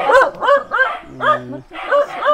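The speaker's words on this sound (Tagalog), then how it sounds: "Aso." A dog gives a run of short, close barks and yips, four or five in a row, with a brief whine in the middle of the series.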